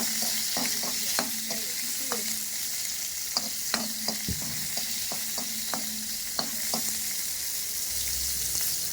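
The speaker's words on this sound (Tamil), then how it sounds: "அடுத்தது நம்ம சின்ன வெங்காயத்தை ஆட் பண்ணிக்கலாம். ஆட் பண்ணிட்டு அதை நல்லா வதக்கிக்கலாம்." Small onions (shallots) sautéing in a pan for pepper chicken with onion rasam, a steady sizzle broken by frequent sharp clacks and scrapes of a spoon stirring.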